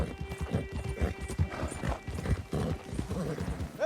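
Horse hooves clip-clop steadily in Red Dead Redemption II as a wounded horse, punctured with arrows, keeps moving, with occasional whinnies and a low background din under the rhythmic footfalls.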